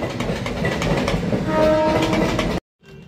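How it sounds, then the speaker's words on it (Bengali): A train rumbles past loudly with rhythmic clattering of wheels and a brief horn tone, then cuts off abruptly. "বাইরেটা থেকে এই তো সুন্দর ট্রেন যাচ্ছে"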